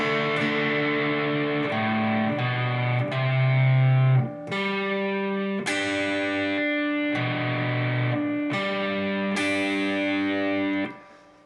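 The outro riff of a song is played slowly on a distorted electric guitar, with repeated picked double-stops and sustained chords ringing close in a steady, deliberate rhythm before stopping.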